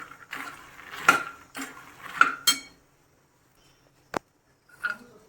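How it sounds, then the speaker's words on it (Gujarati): Roasted makhana (fox nuts) are tossed with salt and turmeric in a pan, producing several rattling, scraping strokes of a spoon against metal, then a sharp single clink and a last short scrape. "એની અંદર રોસ્ટ કરેલા મખાના એડ કરી દઈશું અને એને સારી રીતે મિક્સ કરી લઈશું"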